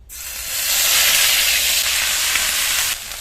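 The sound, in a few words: grated onion frying in fish-frying oil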